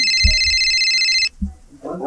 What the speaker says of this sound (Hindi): अरे फोन आते देख तो का कर फोन है